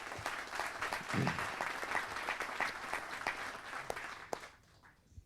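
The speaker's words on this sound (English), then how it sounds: "I think we all ought to give him a round of applause" An audience at a D-Day veterans panel applauds with sustained, dense clapping that fades out near the end, with no one speaking over it.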